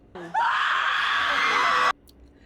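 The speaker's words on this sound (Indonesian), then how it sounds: "Di sini pun orang-orang berteriak." A crowd of people in a movie scene screams together in one sustained, loud, shrill outburst lasting over a second, which breaks off abruptly and is followed by near quiet.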